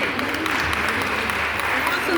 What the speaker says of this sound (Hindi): जोर से तालियां 10 आज्ञा के लिए।